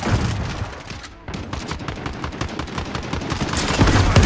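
Rapid P90 submachine gun bursts in Modern Warfare, with a loud, close, dense string of shots that breaks briefly, then resumes with sustained automatic fire, heavier toward the end.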